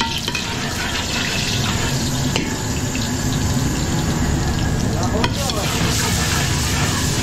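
Garlic sautéing in a pan during catering cooking, a steady close sizzle with stirring scrapes running throughout, plus a couple of sharp clanks of utensil on metal.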